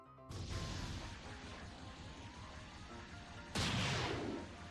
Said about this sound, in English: here is the Gatling gun.